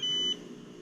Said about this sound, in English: notification tones draw your attention to the next turning